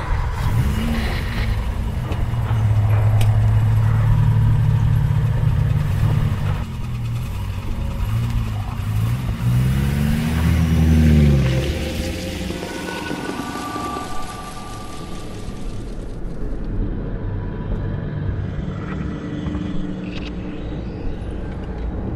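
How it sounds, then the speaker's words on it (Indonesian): A car accelerates away at night, engine revving and rising in pitch before easing into a steady drive, with a rain-like wash of road noise underneath. "aku segera masuk ke dalam mobil dan aku langsung menancapkan gas pulang ke rumah"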